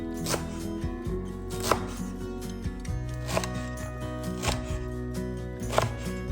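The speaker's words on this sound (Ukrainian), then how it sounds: "поки борщ вариться, я нарізаю щавель" A knife chops sorrel on a cutting board with sharp, regularly spaced thuds, close, over a bed of soft music.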